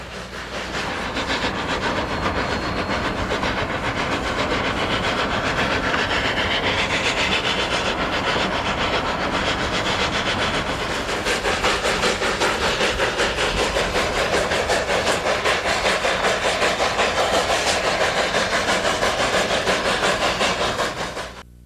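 A freight train rumbles past close by, loud steady roar with rhythmic clickety-clack of wheels on rails, fading only at the very end.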